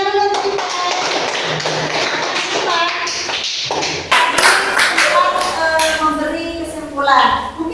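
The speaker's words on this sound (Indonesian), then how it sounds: "Oke, tepuk tangan dulu" A classroom of Indonesian students clapping hands together, with dense, steady clapping over voices and chatter, growing louder and busier in the second half.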